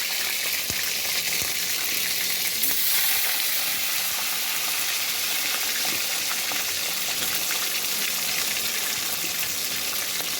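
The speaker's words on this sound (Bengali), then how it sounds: "শুকনো লঙ্কাটা ভেজে নিচ্ছে" Dried red chillies fry in hot oil, giving a loud, dense and continuous sizzling hiss with faint stirring underneath and no voices.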